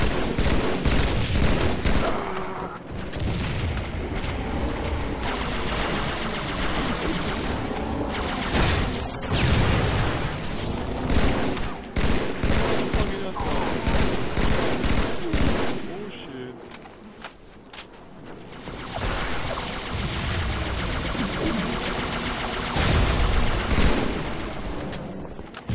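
Rapid bursts of automatic gunfire and single shots in a Halo 3 multiplayer match, loud and dense almost throughout, with a brief lull near the end; no spoken words come through over the shooting.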